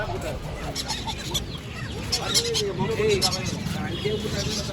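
Country hens and other poultry at a busy Pallavaram market, squawking and clucking calls close by, with people talking over the birds and crowd noise behind.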